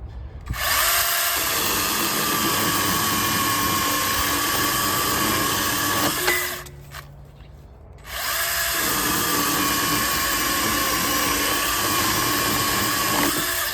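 A small one-handed chainsaw with an automatic oiler runs loud and close while cutting a small piece of wood, a steady high buzz that drops away briefly and then comes back at full speed.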